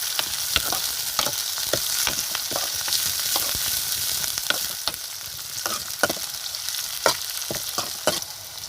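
Ginger and green garlic fry in a pan while being stirred, producing a constant crackling sizzle punctuated by regular spoon scrapes and taps, close up with no speech.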